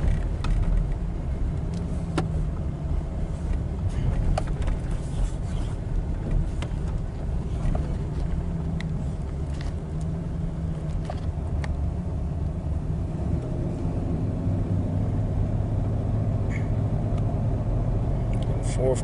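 A GM car with a slipping transmission drives along, its steady low engine and road rumble continuous throughout, with no clear shift event standing out.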